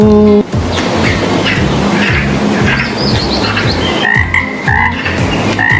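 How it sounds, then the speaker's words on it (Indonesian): A frog croaks in a rapid, loud repeating series of rasping calls, close up, with chirping creature sounds layered on top. "Wah, ada katak."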